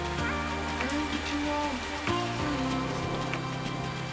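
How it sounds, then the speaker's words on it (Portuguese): Rain falls steadily at Iguazu Falls in Argentina, a dense continuous hiss of drops on surfaces that holds even throughout, with a low background drone and no talking. "Pode dar uma pancada de chuva, daqui a pouco vocês vão ver que já vai parar."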